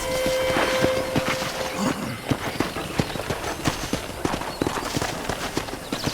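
Rhythmic clip-clop of horse hooves at a steady gallop in the video game Red Dead Redemption, close and fairly loud, with a brief steady tone near the start and a faint whinny.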